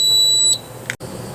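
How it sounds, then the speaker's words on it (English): A keyless RV entry door handle lock gives a long high electronic beep as it enters learning mode, steady and clear for about half a second, then cuts off into quiet room noise. "We hit the learning button, you hear a long beep"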